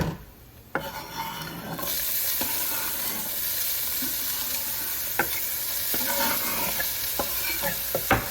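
A mix of nine washed peppers drops into hot oil in a pan for arrabbiata sauce, breaking into a loud, dense, continuous sizzle with occasional sharp clicks of stirring, nobody speaking.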